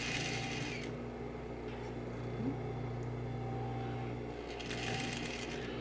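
Sewing machine stitching a pleated tulle skirt onto its base fabric, a steady close mechanical whir and hum running continuously with faint rattling, no talk over it.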